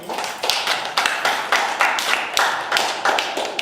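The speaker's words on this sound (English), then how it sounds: "Round of applause, please, for Chuck and Tieta." A small audience's round of applause at a talk, uneven claps in a steady, fairly close patter with no voices.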